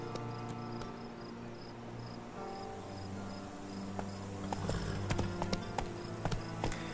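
Steady clip-clop of a horse's hooves walking at an even pace in The Witcher III: Wild Hunt, layered over a constant insect-like chirping drone and light background ambience.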